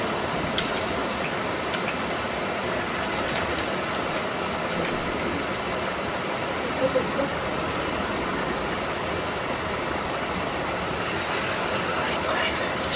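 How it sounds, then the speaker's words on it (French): Helicopter flying in Fortnite, a continuous dense engine roar with a rough, buzzing texture that holds steady and loud for the whole stretch, with no clear talk over it. "J'arrive en hélicoptère."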